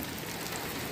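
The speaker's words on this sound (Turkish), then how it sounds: "Şu anda güzel bir yağmur yağıyor." Steady rain falls in a garden, a dense continuous hiss of drops on surfaces filling the whole moment at even loudness, with no voices.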